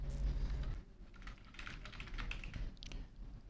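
Close, quiet keystrokes on a computer keyboard come in an irregular run of light clicks as an IP address is typed into an email setup screen.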